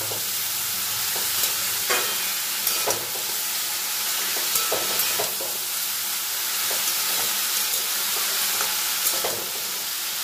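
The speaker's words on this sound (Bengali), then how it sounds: "নুন হলুদ দিয়েও সব কিছুর সঙ্গে মিশিয়ে কিছুক্ষণ নাড়াচাড়া করব।" Banana stem and raw papaya frying with salt and turmeric in a pan, stirred continuously so a steady sizzle runs throughout, broken by repeated scraping strokes of the spatula, with no voices.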